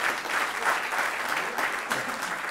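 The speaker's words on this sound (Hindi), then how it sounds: "तालियां बजाएं आप जोरदार" An audience at a staged theatre presentation breaks into loud, dense, continuous applause that holds steady from start to finish.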